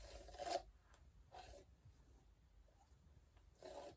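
A hairbrush is pulled through long, knotted hair in three separate raspy strokes, each a short, soft scratching rub with quiet gaps between, heard close.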